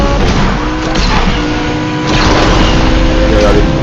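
Hennessey Venom F5 hypercar engine in the racing game Asphalt 8, a loud high-speed engine drone with shifting whines and rushes, heard under a voice talking.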